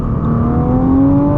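A 2021 Nissan GT-R Premium engine pulls hard, its tone climbing steadily in one loud, continuous surge of acceleration heard from up close.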